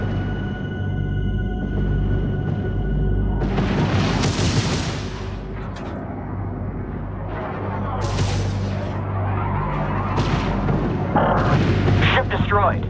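Spaceship explosions and weapon fire in the Homeworld 3 space strategy game, heavy rumbling booms with sharp bursts over a low engine drone, repeating through the stretch with radio voices speaking over the battle.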